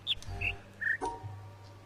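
Short chirping bird calls from a puzzle in The Witness, three brief whistled notes at different pitches in a quick sequence over a low steady hum, with a faint croaking blip after them.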